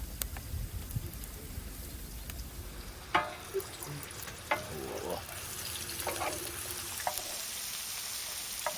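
Onions frying in corn oil in a pan give a soft, continuous sizzle. Scattered clicks and scrapes of stirring break through it at intervals, all fairly quiet.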